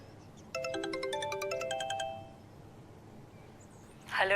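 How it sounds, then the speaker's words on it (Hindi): A mobile phone ringtone plays a repeating electronic chime pattern for about one and a half seconds, fairly close and clear, then stops, leaving quiet room tone and a brief rustle at the end. "मेरे बार बार फोन बज रहा है।"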